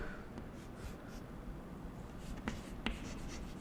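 Pen writing on paper during an accountancy lesson, a close, continuous faint scratching with a few sharper taps, heard alone without talk.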